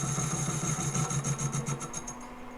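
Lathe taking the final cut on a brass part for a dial indicator clock, a steady mechanical hum with a rapid rhythmic chatter that fades toward the end, heard close.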